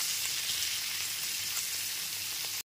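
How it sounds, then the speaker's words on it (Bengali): Pointed gourd pieces sizzle steadily in a pan with turmeric and salt, making a dense, even crackle that continues without pause before stopping abruptly. "পটলগুলোকে একটু সময় নিয়ে ভেজে নেব"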